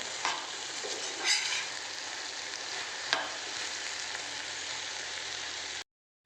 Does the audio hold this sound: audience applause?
no